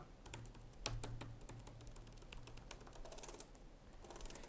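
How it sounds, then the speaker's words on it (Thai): Rapid clicky keystrokes on a Lenovo IdeaPad Gaming 3 laptop keyboard, a steady stream of light taps with occasional sharper clacks, close up and with no voices. "คีย์บอร์ดเนี่ยมันจะมีความคลิกกี้ตามสไตล์โน้ตบุ๊กเกมมิ่งทั่ว ๆ ไปนะครับ"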